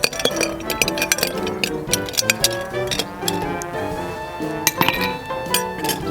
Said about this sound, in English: So for this, we need a couple of pieces of ice. I normally try to use 2 or 3 cubes.